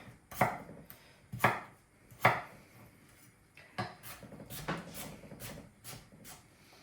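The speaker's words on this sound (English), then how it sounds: "So after we get these chopped up" A knife chops potatoes on a cutting board for potato and leek soup, striking in about nine sharp, distinct blows spaced roughly half a second to a second apart, close and clear with no talk.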